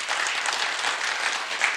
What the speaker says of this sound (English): let's give a round of applause to our Nutley